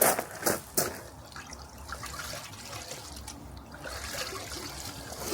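A car wash mitt dunked into a bucket of water during a winter maintenance wash, with a couple of sharp splashes at the start followed by soft trickling and dripping, close by and fairly quiet.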